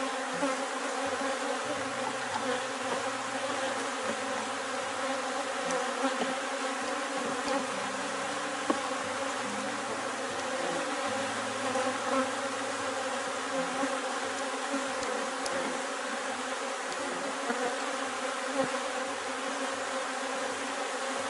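A honey bee swarm buzzing around an open hive while a colony is being split: a dense, continuous droning hum of many bees, close and steady throughout.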